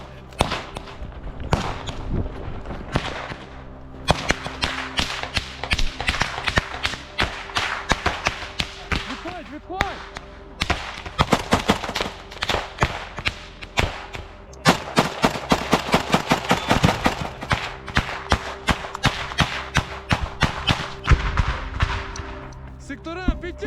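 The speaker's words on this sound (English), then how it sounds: "Amid a chaotic firefight and a GS grenade launcher strikes, the Ukrainians clear trenches, neutralize a machine gunner" Chaotic close-range firefight in Ukrainian trenches, sharp rifle shots and bursts cracking in irregular clusters alongside heavy thuds of grenade launcher strikes, loud and near, with shouted voices between volleys.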